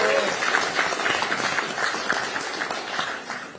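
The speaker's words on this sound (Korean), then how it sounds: "한 분 한 분 소개할 때마다 큰 박수로 맞이해 주시면 되겠습니다." An audience claps to welcome candidates at a Democratic Party rally, a moderate, continuous spatter of applause that fades slightly toward the end.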